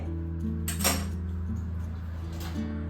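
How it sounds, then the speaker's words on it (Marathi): Metal pots and cups clink in a home kitchen as boiled tea is strained, a few sharp knocks over a steady low hum, with a bright clatter near the middle. "चहा उकळलेला आहे पटकन आता गाळून घेते"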